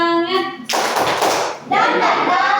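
A classroom of pupils claps together in a rhythmic spirit clap, two dense bursts of many hands, with a voice speaking before and between them.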